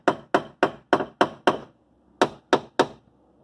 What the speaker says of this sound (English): in order to take some of the stress away, you have to hammer it gradually